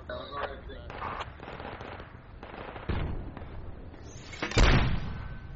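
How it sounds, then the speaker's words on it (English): Mortar rounds fire and impact in the military shooter Squad, a series of sharp crackling blasts and dull booms, with one heavy loud explosion near the end over busy battlefield noise, with voices talking. "I'm just mortaring chem weapons"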